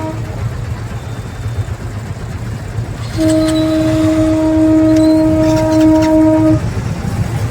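A train rumbles past nearby, its horn sounding one long steady blast over the rolling clatter of the wheels.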